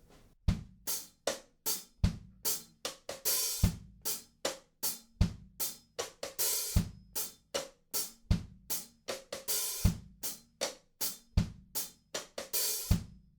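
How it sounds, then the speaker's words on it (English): A drum kit plays a steady, laid-back swung reggae groove with crisp snare and cymbal hits and light bass drum, repeating evenly throughout, from the drum part of a song. "just make sure you get that real reggae kind of groove going on"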